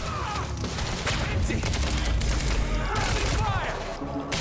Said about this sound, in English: I feel bullets flying from everywhere. Thank you, submachine gun.